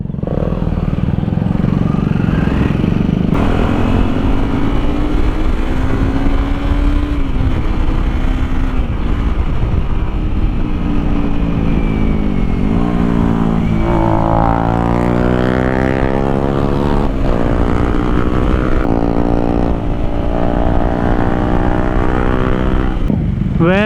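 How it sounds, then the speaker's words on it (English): A Honda CBR250R motorcycle, freshly serviced after 25,000 km, rides continuously with a loud, steady engine drone that rises and falls in pitch through gear changes and acceleration. "the bike runs noticeably smoother"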